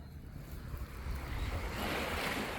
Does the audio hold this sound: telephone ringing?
no